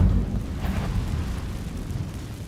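The Incendio fire spell is cast in Hogwarts Legacy, giving a loud, rumbling whoosh of flame that starts strong and holds steady as a dense roar, with no one talking.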